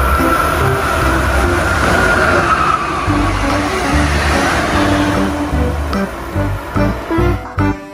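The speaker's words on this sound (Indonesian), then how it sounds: "Yang ini ada kereta cepat." A toy high-speed train runs steadily with a loud rattling, whirring motor over several seconds, then turns choppy and stops and starts near the end. No one speaks.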